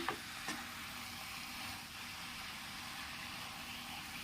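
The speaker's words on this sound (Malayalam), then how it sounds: "ചിക്കനും കൂടെ ചേർത്ത് കൊടുത്ത ശേഷം നല്ലതുപോലെ ഒന്ന് കൂട്ടി ഇളക്കണേ" Chicken pieces being stirred through a pan while cooking for chicken curry, a soft continuous sizzle with light scraping throughout, alone with no talk.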